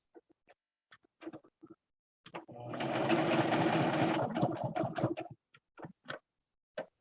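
A sewing machine stitches in one steady, continuous whir lasting a couple of seconds, framed by scattered soft clicks and taps of handling the fabric, close and fairly quiet.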